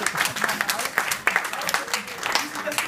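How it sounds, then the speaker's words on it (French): An audience applauding a volunteer named Benoît at a comedy sketch show, a short burst of dense clapping with a voice speaking over it. "Bravo, on peut applaudir Benoît."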